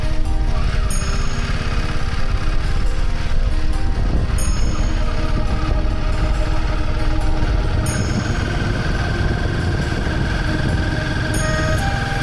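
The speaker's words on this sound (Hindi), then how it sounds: "बाइक कोल्ड स्टार्ट कर दी है और बाइक भी रेडी हो चुकी है" A Royal Enfield Himalayan motorcycle idling after a cold start on a mountain road, a steady close rumbling engine throb running unbroken throughout with no speech.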